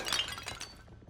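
A brief crashing smash with glassy, splintering debris that quickly fades, heard alone, as something is bashed open in the video game Dark and Darker.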